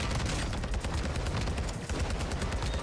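Rapid automatic gunfire from a no-recoil weapon in the Warzone video game on Ashika Island, dense sustained bursts of shots with a brief gap partway through, loud and close.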